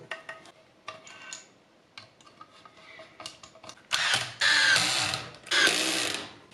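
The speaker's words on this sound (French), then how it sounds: "On met tout en place et on commence à visser un petit peu." Small parts of a Schumacher LD3 model car are assembled with light clicks, taps and brief ratcheting, followed by several louder bursts of a power screwdriver driving screws, close and without talk.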